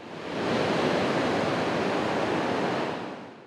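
Ocean waves crash steadily on the Tijuana coastline near the US-Mexico border, a broad continuous roar of surf that swells in and fades out, with no voices.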